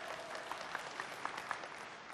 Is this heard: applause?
yes